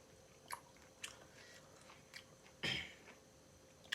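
Someone eats late at night in a quiet room, with a few soft, close bites and crunches spaced a second or so apart, one louder crunchy chew standing out near the end.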